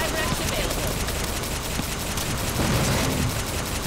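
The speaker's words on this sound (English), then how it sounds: "Keep shooting." Dense, continuous gunfire from a firefight in the video game Escape from A.R.C, rapid overlapping shots and bursts sustained at a steady loud level throughout, with a voice talking over the battle.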